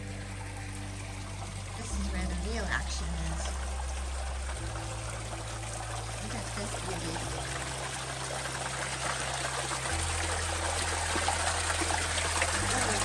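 At a big spring, water trickles and drips steadily nearby in a continuous wash, while someone talks over it.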